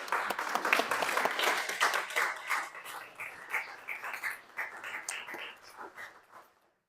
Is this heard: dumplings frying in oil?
no